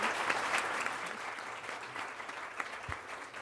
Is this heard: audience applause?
yes